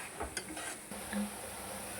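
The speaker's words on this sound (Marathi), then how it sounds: "वाटण चांगलं भाजून घ्यायचं आहे आपल्या खोबऱ्याच्या वाटणाला तेल सुटलेलं आहे" Coconut masala paste roasting in oil in a pan, a steady low sizzle with a few soft stirring scrapes and light utensil knocks, close and fairly quiet.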